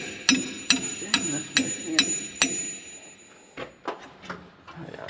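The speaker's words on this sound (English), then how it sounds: "Pull on the wrench and I'll karate chop it." A bare hand chops at a wrench to loosen a 1-inch number 16 JIC hydraulic hose fitting on an ex-government IH Dresser TD20E dozer: six sharp, evenly spaced metallic clanks with ringing, then several softer knocks.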